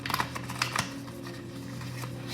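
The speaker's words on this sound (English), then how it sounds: "I wanted to shuffle that deck one last time." A deck of cards is shuffled during a spiritual tarot-style reading, giving a brief burst of rapid riffling clicks that repeats once, moderately close over a steady low background hum, with no voices.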